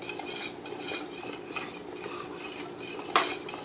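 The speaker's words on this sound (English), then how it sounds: "After about 2 to 3 minutes of stirring your grits" Utensil scraping and clinking steadily inside a pot while southern grits are stirred over high heat, a continuous close scratchy texture with one sharper knock near the end.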